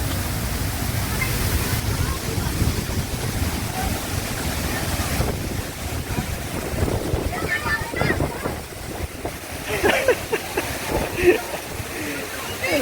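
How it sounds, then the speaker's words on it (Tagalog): Water rushes strongly at Puray Falls, swollen after a week of rain, as a steady, loud broadband roar fills the scene, with people talking over it. "Sobrang lakas ng tubig ngayon kasi isang linggo umulan."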